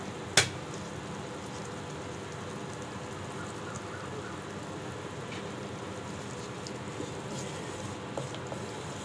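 Spices fry in oil for a Bengali-style chicken curry, giving a steady, soft, rain-like sizzle throughout, with an occasional faint clink of a utensil against the pan.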